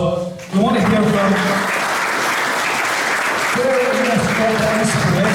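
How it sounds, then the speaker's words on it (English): An audience bursts into loud, sustained applause at a community event featuring a drum band, the clapping rising sharply and holding steady while a host talks over it. "give them a big round of applause"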